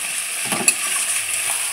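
Mutton kosa sizzling in oil over low heat in a pan, a steady close frying hiss with a few faint stirring clinks, no talk.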